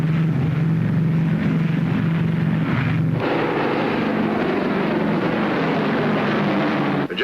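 A large propeller transport aircraft on final approach to runway touchdown, with a loud, steady engine drone mixed with rushing wind that holds throughout, shifting in tone partway through.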